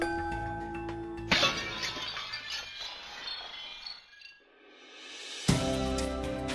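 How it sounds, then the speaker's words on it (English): A drinking glass shatters after being driven at its resonance frequency. A steady sustained tone is cut by a sharp loud crash and tinkling fragments, then a rising tone returns before a second abrupt burst. "finally the glass will break up"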